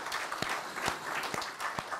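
A church congregation claps in welcome for a new member, a steady patter of many hands at moderate distance with a few sharper individual claps standing out.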